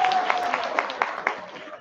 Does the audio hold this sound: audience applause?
yes